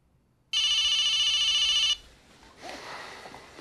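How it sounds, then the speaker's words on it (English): Fox Mulder's mobile phone in the 1998 X-Files film goes off with a loud, steady electronic ring for about a second and a half, then cuts out into quiet rustling ambience. "Mulder's watching the bomb, and his phone goes off."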